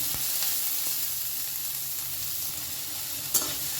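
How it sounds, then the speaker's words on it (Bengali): Chopped onion frying in a pan with a steady, close sizzle and the scrape of stirring running through, with one sharper clink near the end. "দু মিনিট ধরে এটাকে একটু আমি ভেজে নেব"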